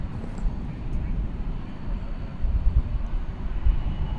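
Airliner taking off at DFW Airport, a distant low steady jet roar with a broad rumbling wash that swells slightly, no voices heard.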